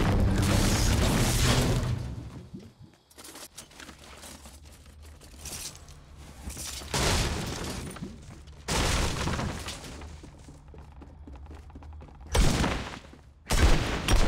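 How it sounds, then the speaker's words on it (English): Gunfire in the Fortnite battle royale game comes as loud bursts of shots separated by quieter gaps, with the heaviest volleys at the start and near the end. "Is that you shooting, or what's going on?"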